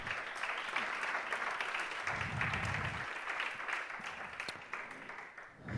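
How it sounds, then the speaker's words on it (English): Steady applause from a conference audience welcoming a speaker at a Vue.js developer event in Italy, a dense, continuous patter of many hands that holds at an even level for several seconds before tapering slightly. "Please, let's give him another round of applause and let's listen to his talk"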